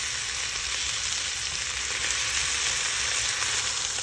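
Orange roughy fish fillet frying in oil alongside almonds, giving a continuous close, bright, even sizzle with no pauses.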